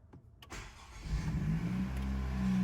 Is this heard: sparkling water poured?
no